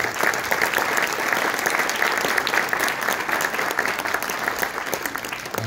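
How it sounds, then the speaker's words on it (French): Sustained, even applause from a concert audience for the transverse flute section of a wind band, dense clapping holding steady for several seconds with faint voices underneath. "les flûtes traversières qui vont se lever, qu'on va applaudir très fort"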